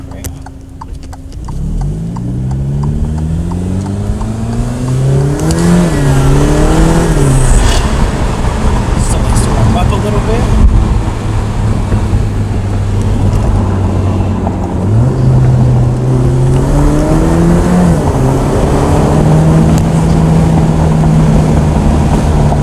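An Alfa Romeo Stelvio Quadrifoglio engine revs and accelerates, its pitch climbing through several gear changes, loud and close, with brief talk mixed in.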